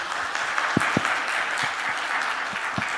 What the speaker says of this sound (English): Can we have a big round of applause again?